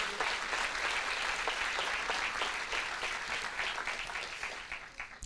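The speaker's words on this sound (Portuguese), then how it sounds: "Você pode dar uma salva de palmas a Jesus?" A church congregation claps steadily during a Brazilian Protestant service, with dense, sustained applause throughout that fades slightly toward the end.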